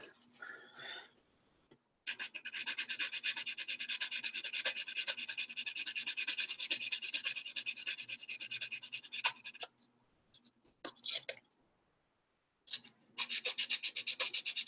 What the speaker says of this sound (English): I'm sanding this